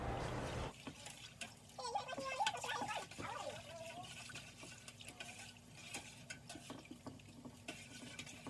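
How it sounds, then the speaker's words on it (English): Water pours steadily into a pot of chicken, sausage and shrimp gumbo nearby, a continuous splashing stream, while a voice speaks faintly over it. "go ahead and add your water."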